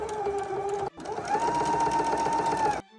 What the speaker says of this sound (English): we're gonna sew it down